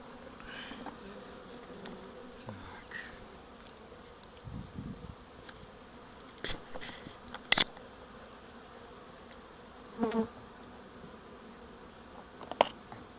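Honeybees buzz steadily around a beekeeper's apiary, a continuous low insect drone with a few louder close passes and brief knocks, with no talking.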